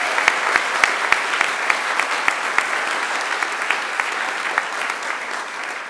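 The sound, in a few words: applause for the graduation performer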